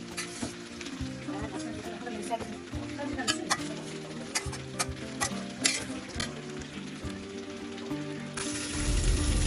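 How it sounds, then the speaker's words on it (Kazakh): Carrots and garlic sizzle and crackle in a hot pan, with intermittent stirring clicks and scrapes close by, while faint voices murmur in the background. "Енді сәбізбен сарымсақты салайық. Сәбіз жұмсақ болғанға дейін 10-15 минут қуырамыз."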